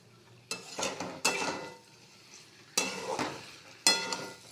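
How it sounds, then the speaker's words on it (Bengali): Cauliflower curry made with local cauliflower is stirred and sautéed in a pan, giving bursts of sizzling and scraping spatula strokes in irregular pulses with quieter frying between, close and clear. "একটু ভালো করে কষিয়ে নেব।"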